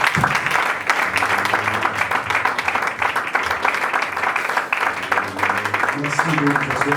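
A church congregation claps and cheers in acclamation of Jesus, dense continuous applause mixed with crowd voices and a few raised shouts throughout.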